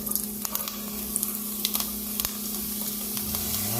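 Beef pieces laid into a very hot dry pan without oil, giving a close, steady sizzle with scattered crackles and pops and a constant low hum underneath.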